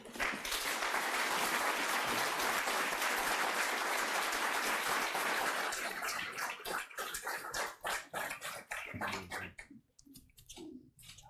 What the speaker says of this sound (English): we all applaud and thank you.